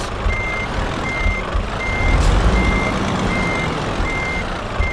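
Truck in Euro Truck Simulator 2 backing up; a steady series of evenly spaced reversing beeps over a low rumbling engine, close and continuous, no talking.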